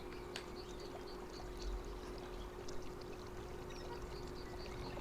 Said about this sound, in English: Yes, we're gonna make it rain.